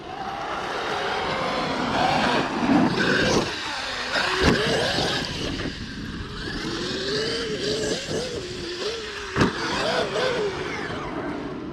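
A new car's engine revs as it drives off, a steady motor drone with rising and falling pitch and several sharp knocks, heard alongside shouting voices.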